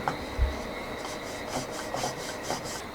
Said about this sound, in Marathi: आता आपण याला थोडंसं सुकं पीठ लावून याची आपण गोल चपाती लाटून घेऊया